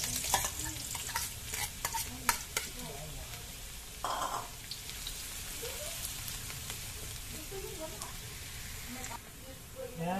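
Garlic sizzles and fries in a pan for pork adobo, a steady crackling hiss with stirring scrapes throughout, heard close and moderately loud.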